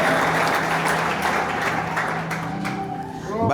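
Congregation applauding during a prophetic church service, a steady dense wash of many hands clapping throughout, fairly loud and continuous with a faint voice or tone underneath.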